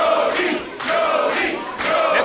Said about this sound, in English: This crowd thoroughly behind Jody Threat